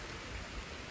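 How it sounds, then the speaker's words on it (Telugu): Steady rain falls on a farm during the rainy season, a soft, even hiss of drops with no voices. "వర్షం మేము ఫుల్ వస్తుంది గైస్."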